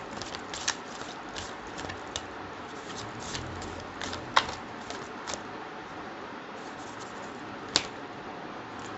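Tarot cards being shuffled and drawn: quiet, close handling with a scattered series of light snaps, flicks and riffles over a low background hiss.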